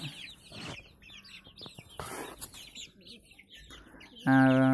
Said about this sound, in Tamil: இது வந்து நம்ம சேவல்